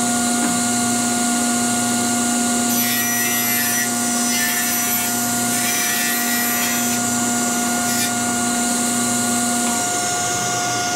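Table saw ripping a narrow strip of wood, a steady loud whine with a constant motor hum running throughout, the cutting noise rising through the middle as the blade moves through the board, with no talking.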